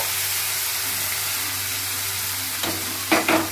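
Chopped onions fry in mutton fat in a pan, giving a steady close hiss and sizzle, with a few brief spatula scrapes near the end.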